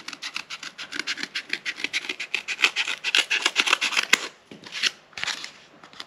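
A small piece of cardboard is cut into a round shape, giving a close, busy run of rhythmic rasping cuts that slows and breaks up near the end, with no speech.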